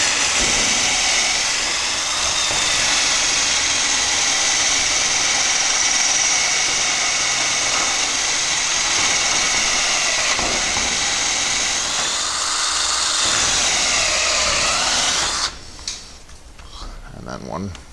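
Power drill boring straight through a metal shed roof support near the ceiling for bolts, a steady loud whine running for about fifteen seconds before cutting off, followed by quieter handling noise and a voice.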